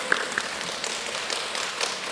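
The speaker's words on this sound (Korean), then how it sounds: "박수 왜 치셨어요, 여러분?" Clapping from a church congregation during a sermon, a thin, scattered patter of hands fading out, soft and somewhat distant.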